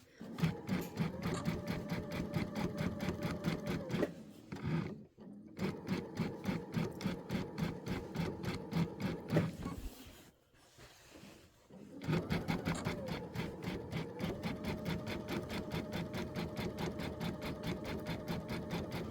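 An Avenir sewing machine stitches in the ditch with a rapid, even mechanical clatter in long runs, pausing twice briefly with near silence before resuming at the same steady pace.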